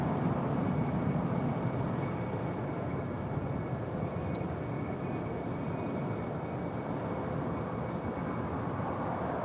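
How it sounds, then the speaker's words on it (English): An Air Canada Airbus A330-300 airliner departing LAX, a broad, steady jet roar that stays constant and fairly distant throughout, with no talk. "And this is Air Canada 790 in the Star Alliance livery, heading back to Toronto."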